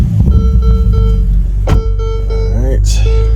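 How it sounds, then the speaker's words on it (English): A Ferrari F8 Spider's engine rumbles low and steady at slow speed as it pulls into a home garage, with someone talking over it throughout. "let's pull the Ferrari inside"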